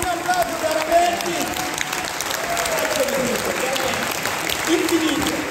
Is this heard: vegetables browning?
no